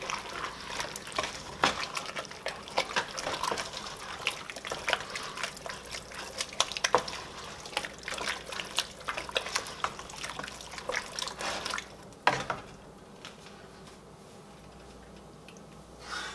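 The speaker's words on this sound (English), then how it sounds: "Give this a stir." Turkey chili being stirred in a pot, with wet, squelching scrapes and soft clinks repeating steadily up close for about twelve seconds before the stirring stops and only a faint hush remains.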